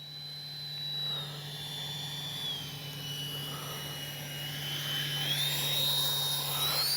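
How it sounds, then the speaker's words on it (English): Small E-flite 64mm Viper electric ducted-fan RC jet making a low, slow pass, its steady high whine rising and falling in pitch as it flies by at moderate distance, with a constant low hum beneath. "I just cannot get over how slow and stable this little jet can be."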